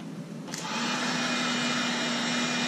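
A steady electric hot air tool starts up with a click and settles into a constant whooshing hum with a faint tonal whine, close and continuous.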